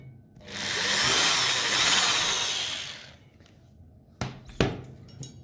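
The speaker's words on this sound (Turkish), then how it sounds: "Sonra bunları tam o ölçtüğüm yerlerden şöyle deliyorum." A power drill bores holes into a dried gourd being made into a lamp: a steady drilling whine lasting about two and a half seconds, followed by a few sharp knocks and taps nearby.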